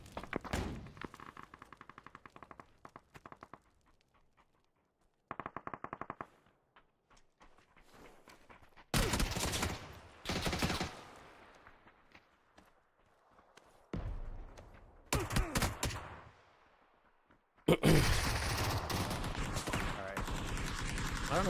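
Gunfire in a multiplayer shooter video game comes in loud bursts of rapid automatic fire and single shots, separated by quiet gaps, with players talking at times.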